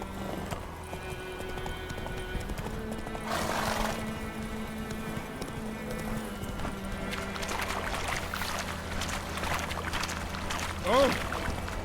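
Roach, a horse in The Witcher 3, trots with steady rhythmic hoofbeats over a continuous low ambient game soundtrack, with a short whinny-like burst near the end.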